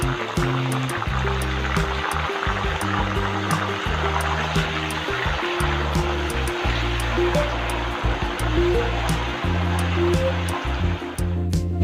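Jackfruit chips frying in hot oil after salted turmeric water is sprinkled in give off a steady crackling sizzle with sharp, scattered pops, all over a constant layer of background music.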